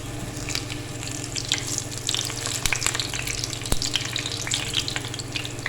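Potato chapli kababs, freshly turned in a frying pan, sizzle steadily in hot oil. Scattered pops and a couple of sharp taps stand out over the constant crackle.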